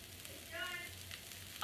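Onions, garlic and ginger frying and being stirred in a pan for a quinoa stir fry, giving a soft steady sizzle with light scraping, fairly quiet and close, with a brief louder bump at the end.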